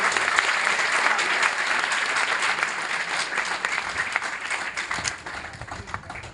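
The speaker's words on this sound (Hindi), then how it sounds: "एक बार जोरदार तालियां हो जाएगी" Loud, sustained applause from an audience at an RCM business event in Gwalior, dense clapping filling the whole stretch and easing slightly near the end.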